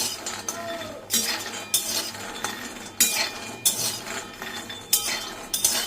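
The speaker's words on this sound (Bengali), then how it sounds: "এই যে বাদামটা ভেজে নিচ্ছি" Peanuts being dry-fried and stirred in a pan clink and scrape in a series of sharp metallic strokes, close and fairly loud, with quiet gaps between the stirs and no voices.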